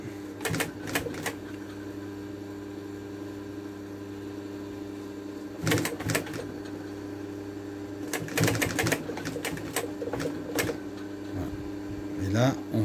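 Upholstery sewing machine stitching the binding onto a car floor mat, a steady hum broken by several short rapid clattering bursts of stitching, close up, with a voice speaking at times.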